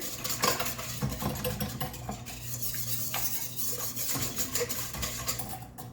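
Utensil stirring bread dough ingredients, including sugar, in a mixing bowl for Amish white bread, with steady scraping and clinking against the bowl throughout over a low background hum.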